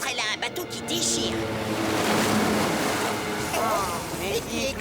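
Cartoon speedboat tearing across water, a loud continuous roar of engine and heavy splashing spray that fills the moment, with a voice briefly audible under it.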